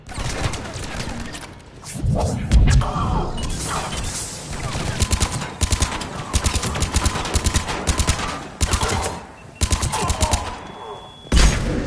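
Gunfire in the Mass Effect 3 video game: loud, close bursts of rapid automatic shots broken by short pauses, with heavier thumping impacts scattered through the firefight.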